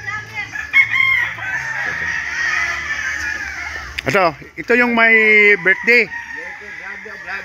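Roosters crow loudly and repeatedly at close range on a gamecock farm during a birthday party, with clucking hens and people talking throughout.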